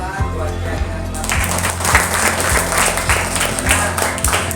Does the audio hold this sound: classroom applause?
yes